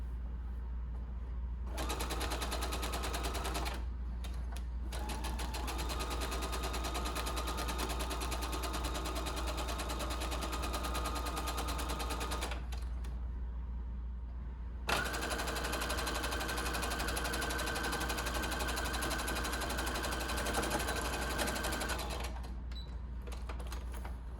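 A sewing machine stitches a ruffle seam in steady, loud runs, pausing briefly between bursts and starting again.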